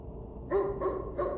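A dog named Gunpowder barks in the horror video game Teleforum, three short muffled barks in quick succession, fairly faint and somewhat distant, with no talking.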